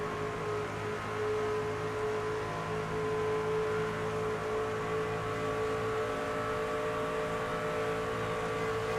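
Race car engines in the NASCAR 25 video game drone steadily at close range, a continuous high-pitched roar with layered engine tones that holds through the whole stretch without any talk.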